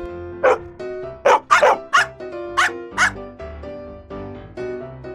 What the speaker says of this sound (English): Golden Retriever.